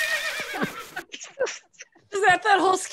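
A horse whinny in a comedy sketch, a loud shaky neigh followed by choppy breathy snorts and a second rising whinny, mixed with voices.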